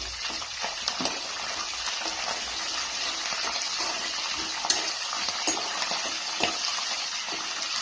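Dried red chillies and fresh curry leaves frying in hot oil, an even hissing sizzle with occasional sharp pops and stirring clicks, close and without speech.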